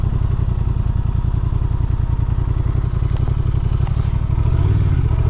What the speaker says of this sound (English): they asked me if I would ride the Honda CB, I believe it's a CB500 Scrambler, and I'm going to do a U-turn here